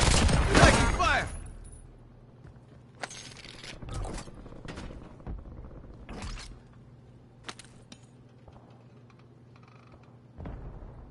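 Video game gunfire in a squad shooter, a loud opening burst followed by scattered sharp single shots and short volleys over a quiet background hum, with sparse clicks between.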